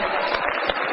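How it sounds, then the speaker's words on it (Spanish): An audience at an evening talk applauding together in a hall, a dense, steady wash of clapping that fills the whole second without pause. "un gran aplauso"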